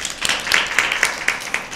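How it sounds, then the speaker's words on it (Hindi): Audience applause for Team A after a correct answer at a Lent season Bible quiz, a brief stretch of steady mid-range clapping with several sharper claps standing out. "भरपूर तालियां।"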